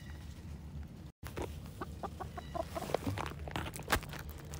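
Backyard chickens cluck and murmur nearby in a series of short, irregular calls over a steady low background hum, with a brief dropout near the start and no voices.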